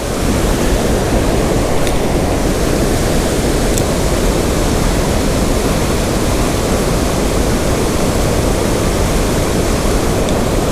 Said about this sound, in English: Through the rapids we go.